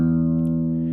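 A single sustained guitar string tone, plucked, rings steadily and evenly, fading only slightly, with no other sounds around it.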